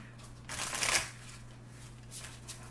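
A brief riffle of a tarot card deck being shuffled, a quick papery burst in the middle, then a fainter second flutter near the end over a low steady hum.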